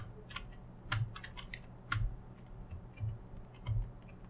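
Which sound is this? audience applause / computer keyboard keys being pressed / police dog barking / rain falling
computer keyboard keys being pressed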